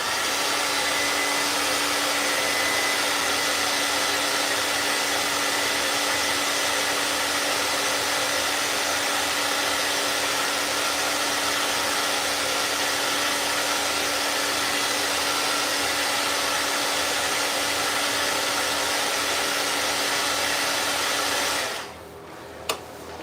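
A dryer blows steadily to cure a freshly applied chip repair coating on a countertop edge, a constant airy whoosh held for over twenty seconds before cutting off abruptly near the end.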